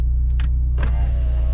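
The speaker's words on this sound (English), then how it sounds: "if you keep pressing on it, the entire soft top will drop down" A motorized whir and mechanical clicks inside a 2010 Mini Cooper S as its electric convertible soft top opens, over a steady engine idle, short bursts followed by a longer smooth hum.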